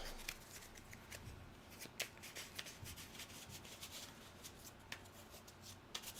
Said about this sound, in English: Got to shuffle these so we got new initiative or new results.